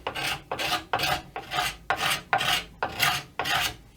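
A kidney-shaped cabinet scraper works the wooden neck of a handmade guitar at the neck joint, giving nine rhythmic rasping strokes about half a second apart, close and crisp, with no voices.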